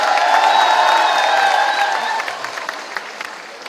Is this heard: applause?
yes